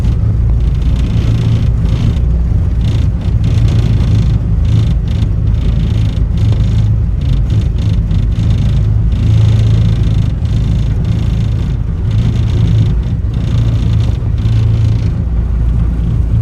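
A new CAT 249D3 compact track loader plowing snow, its engine a loud, constant low rumble with repeated rattling and clattering bursts scattered throughout.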